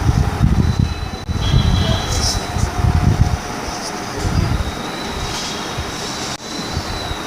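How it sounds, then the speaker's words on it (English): An old Crompton Greaves 36-inch ceiling fan runs with an odd, airplane-engine-like noise, giving a loud, steady rumbling whir with rhythmic low pulses and a faint high whine. "this fan has a pretty weird noise to it"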